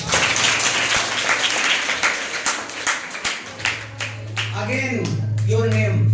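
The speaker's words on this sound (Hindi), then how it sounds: "तालियां।" Students applauding at a school career counseling program, a dense burst of clapping that fades away, followed by talk over a steady hum.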